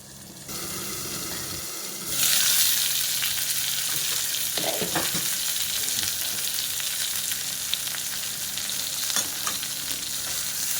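Capsicum cooking in oil in a pan, heard as a steady, close sizzle that jumps louder after the first couple of seconds and carries on evenly, with a few stirring knocks.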